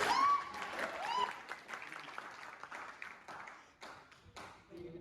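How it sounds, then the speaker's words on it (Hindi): An audience at a digital business meet-up in Delhi claps on cue, with a dense burst of crowd applause that fades into patchy, uneven clapping, a voice briefly rising over it near the start. "तो बजाओ तालियां"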